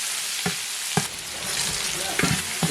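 Onions sautéing and being stirred in hot oil with fried green chillies in a pan, a steady close sizzle broken by a few sharp clinks and scrapes of a spoon, no talk.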